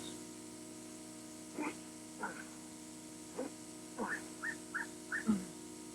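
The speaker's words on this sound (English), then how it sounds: "I just couldn't be mistaken about that bark." A dog gives a series of short yips and barks, some whimpery, spaced unevenly over a steady electrical hum, moderately close.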